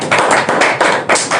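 Audience applause at a press event in Lagos announcing the President Federation Cup, heard as a dense, steady patter of hand claps with slight swells in intensity and no talking over it.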